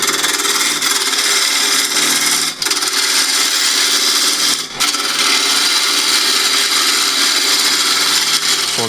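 A spindle gouge cuts the outside of a wooden bowl spinning on a lathe at about 1100 RPM, giving a loud, continuous hissing scrape with two brief dips where the tool lifts.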